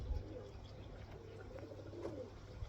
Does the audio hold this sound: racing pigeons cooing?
yes